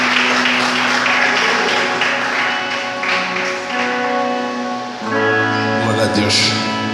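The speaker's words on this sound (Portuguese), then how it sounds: "E as palmas louvem ao Jesus" Church congregation clapping in praise at the close of a sermon, rhythmic applause over sustained instrumental tones and voices, growing fuller toward the end.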